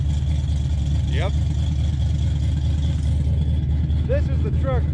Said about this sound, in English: This is the truck that really makes the potato sounds when it's idled down.